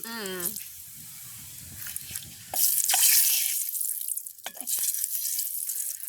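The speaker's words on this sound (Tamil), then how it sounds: "இனி நாங்கள் அப்பளம் மிளகாய் தான் பொரிக்க போகிறோம்" A voice is heard briefly at first, then loud crackling sizzle of papadums and chillies frying in hot oil bursts in and continues.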